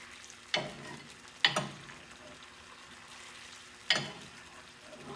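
A lemon juice and butter sauce with seasoning sizzles softly in a pan, a low steady hiss broken by three sharp scraping stirs of a utensil against the pan.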